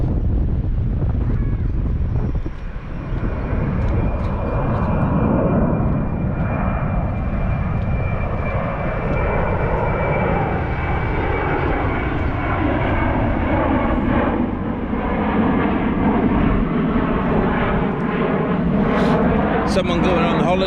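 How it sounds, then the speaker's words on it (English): An aeroplane passes high over the Knapp on the Welsh coast, a long, steady drone that rises and shifts in pitch, mixed with heavy wind buffeting on the microphone. "oh, look at this aeroplane"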